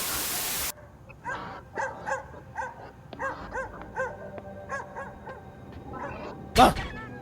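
Dog whimpering and yelping in a film scene being played back, a series of repeated high whines of rising and falling pitch with quiet gaps, ending in a sharp loud burst.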